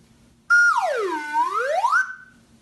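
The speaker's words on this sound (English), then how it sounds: "or the slide whistle" A slide whistle swoops down in pitch and then climbs back up in one smooth, loud, continuous glide.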